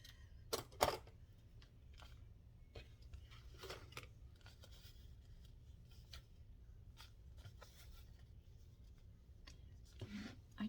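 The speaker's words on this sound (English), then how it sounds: "Let me cut this down." Scissors cutting down craft material for a decorated journal pocket in a quiet room: a few faint, scattered snips and paper rustles, with a louder crisp cut near the start.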